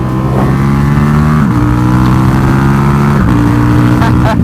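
Ducati motorcycles sweep past on a road through Hope Ranch in Santa Barbara, a loud, near engine drone with repeated upward shifts in pitch, steady and uninterrupted.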